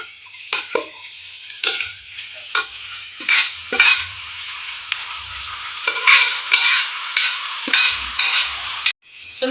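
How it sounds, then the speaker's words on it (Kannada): Raw jackfruit for a Coorg-style palya is stirred and fried in a pan with neem leaves, giving repeated sharp scraping stirs over a soft sizzle, close and alone with no voices. "ಈಗ ಹಲಸಿನಕಾಯಿಯನ್ನು ಹಾಕೊಂಡು ಫ್ರೈ ಮಾಡ್ಕೊಳ್ಳೋಣ."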